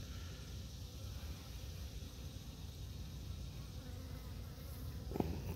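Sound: honey bees buzzing on hive frame

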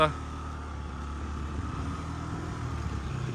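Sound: Yamaha Jog SA36 scooter riding, engine running

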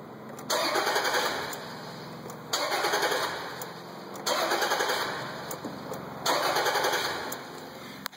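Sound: Land Rover engine cranking but not starting

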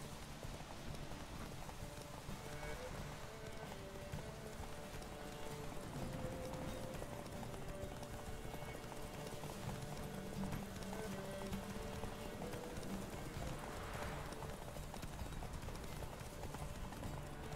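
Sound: horse Roach galloping in a race, video game

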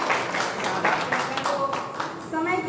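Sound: audience clapping at a mushaira

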